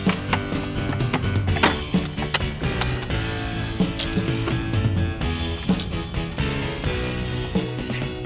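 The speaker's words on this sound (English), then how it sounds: "As soon as he starts to drop that rod, he's cranking the handle." Rapid ratcheting clicks of a fishing reel handle being cranked during a fight with a fish at Loreto, a busy, continuous mechanical whir close to the microphone.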